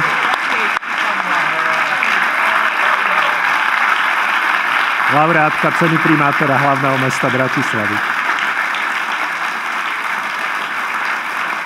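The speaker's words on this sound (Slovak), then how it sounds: "Veľký potlesk úžasnému finále dnešného večera." An audience at the Bratislava mayor's award ceremony applauds steadily throughout, a dense, loud wash of clapping that carries on while a speaker announces over it, with a brief musical passage rising in the middle.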